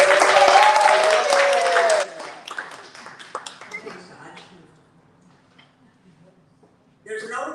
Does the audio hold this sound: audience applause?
yes